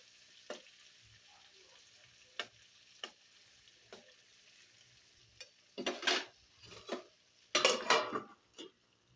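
Stuffed bajji chillies fry in a pan with a faint, steady sizzle, broken by sharp utensil clicks and two louder bursts of scraping and crackling as they are turned.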